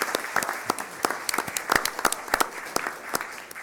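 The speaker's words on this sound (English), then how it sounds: "just one last round of applause for everybody" An audience at a city council meeting claps steadily, sharp individual claps standing out from a dense wash of applause that carries on without a break.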